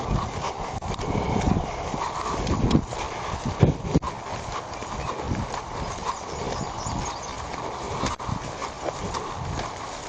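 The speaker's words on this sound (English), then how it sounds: "Hope this horse won't attack me." A horse walks through woods, its hooves clip-clopping in a steady, close rhythm over a constant noisy background.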